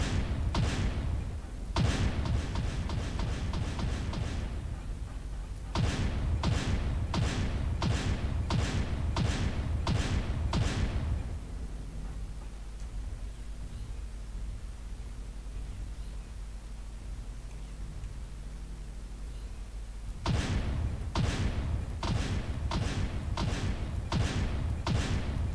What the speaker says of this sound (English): Airstrike activated.